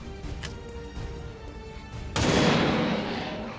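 Gunfire in the video game XCOM 2: a sudden loud, broad blast cuts through the quieter game ambience about two seconds in, then holds and slowly fades.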